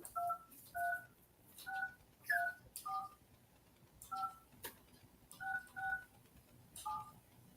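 A phone number is dialed on a telephone keypad, producing a series of faint two-tone beeps in uneven groups, alone in a quiet room.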